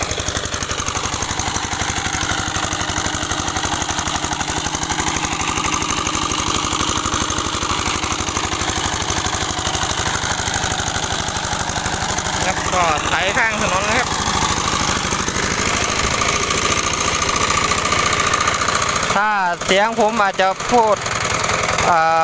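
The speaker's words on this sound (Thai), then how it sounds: "เสียงเครื่องเสียงยังเสียงดังมากครับ" A modified farm tractor's engine, warmed up after a cold start, runs loudly with a steady chugging drone throughout, while someone talks over it near the end.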